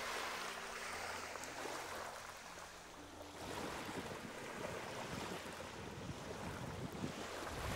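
Surf on Bikini Beach at Gulhi Island in the Maldives, near a boat docking yard, washes steadily and close by, mixed with wind buffeting the microphone and a low engine-like hum that fades early on.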